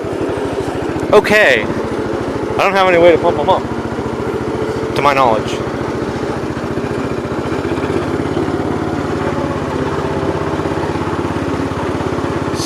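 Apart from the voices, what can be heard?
snowblower engine running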